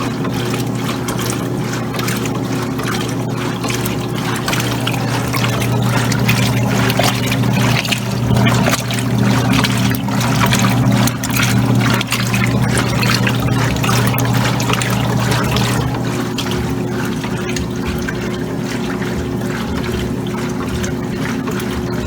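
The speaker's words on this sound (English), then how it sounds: "Of course, pump's working as well. Pump the water out to drain." A Kenmore laundry center's pump drains water during a regular cycle, a continuous steady gushing and trickling with a low mechanical hum underneath, sustained and fairly close with no talk.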